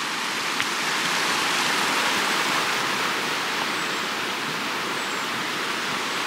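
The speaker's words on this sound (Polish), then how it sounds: "Taki piękny potok" A mountain stream flows steadily, a dense unbroken rush of water that holds the same fairly loud level throughout with no voices.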